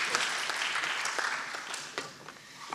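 An afternoon audience at a presentation breaks into a short burst of clapping: a dense patter of many hands, fairly close, fading slightly toward the end.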